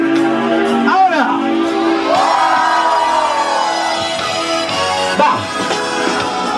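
Large crowd of costumed zombie walkers at the 2012 Buenos Aires Zombie Walk screaming and yelling together in a long, loud, sustained outdoor roar, with whoops rising over the mass of voices.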